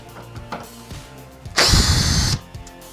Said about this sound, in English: Remove the side bolt first.